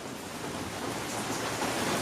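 Heavy pouring rain comes down as a dense, even roar of drops that fills the space and swells slightly louder toward the end, with no voices over it.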